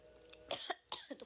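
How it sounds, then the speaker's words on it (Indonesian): A person coughs close to the microphone in a few sharp, rough bursts over about a second, with no talk over them, during a casual chat among friends. "Tuh kan gue batuk."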